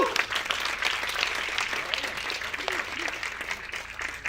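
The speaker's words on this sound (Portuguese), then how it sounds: "quero que vocês recebam com muita honra, com forte aplauso, o Dr. Paulo Musi." Steady, dense applause from an audience, sustained and fairly loud throughout with no pauses.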